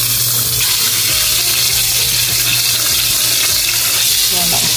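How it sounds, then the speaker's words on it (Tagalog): Ground pork sizzles loudly in a hot pan while being stirred, a constant hiss of frying with scraping movement, and a voice talks over it. "Haluin lang natin siya hanggang lumabas yung kanyang natural oil."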